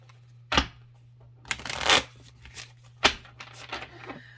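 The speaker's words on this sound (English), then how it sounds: "This is just how I like to shuffle." Shuffling of a deck of thick oracle cards in several bursts: sharp riffles and fluttering snaps with brief pauses between, close and crisp, over a faint steady hum.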